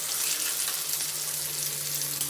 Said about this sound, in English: You're going to let that chicken fry